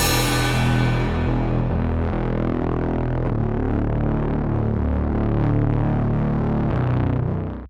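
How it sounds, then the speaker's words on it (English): A mix channel run through straight distortion: thick, buzzing, saturated tones with a throbbing low end, continuous and loud, holding steady before stopping abruptly. "one channel with just straight distortion"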